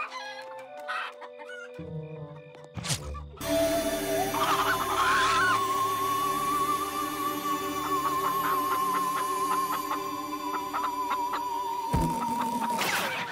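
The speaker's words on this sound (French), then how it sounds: "Vous êtes de gentilles petites poules." Cartoon hens cluck and squawk in a rising, drawn-out cackle, loud and close, over a backdrop of animated soundtrack noise, with a sharp hit near the end.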